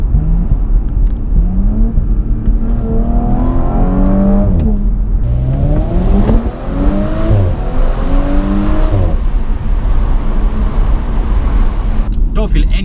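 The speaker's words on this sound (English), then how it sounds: "That must be the only turbo engine I've driven that actually makes a supercharger whine." A 2018 Audi S4 Avant turbo engine revs repeatedly through the gears, rising and falling with a high supercharger-like whistling whine layered over the loud mechanical roar.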